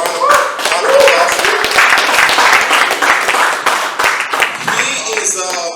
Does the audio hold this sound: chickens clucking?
no